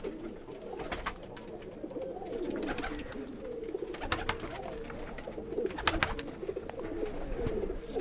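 Sialkoti pigeons coo on a rooftop, soft repeated throaty calls rising and falling over several seconds, fairly close, with light background noise and no talking.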